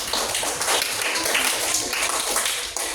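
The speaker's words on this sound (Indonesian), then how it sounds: "Tepuk tangan buat kita semua" A class of fifth-grade pupils claps together in a classroom, a dense, steady wash of hand claps at close range that runs for several seconds and thins slightly near the end.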